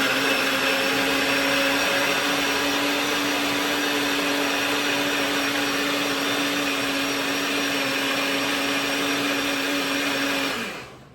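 An electric blender whirs steadily at high speed while mixing a protein shake, a loud, constant motor drone that winds down abruptly at the end.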